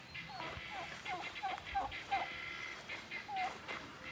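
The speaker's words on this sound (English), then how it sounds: "No, I think that's a turkey." A turkey calls outdoors near chickens, giving several short, faint gobbling yelps spaced across the stretch over a soft background, with people talking quietly nearby.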